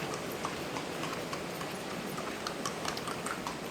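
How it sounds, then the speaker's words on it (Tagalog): Horse hooves clip-clop at a distance on a foggy, rainy road, faint and rhythmic, buried in a steady wash of traffic or road noise. "May kabayo."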